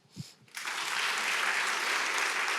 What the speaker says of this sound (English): I want to start today by giving you one more round of applause for the courage to write this book and revisit your past.